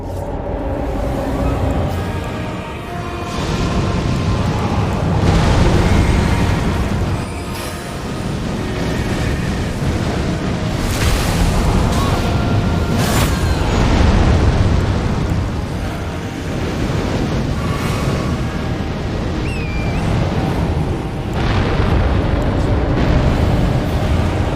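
Sustained rumbling explosions in a video game, a long continuous roar with repeated heavier blasts swelling through it, loud and close, with no talk over it.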